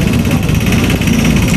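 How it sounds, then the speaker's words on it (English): A Husqvarna DM 400 core drill motor spins up, a loud continuous motor whine with steady low rumble and vibration throughout, heard alone at close range. "You can release the lock function, then you spin it up."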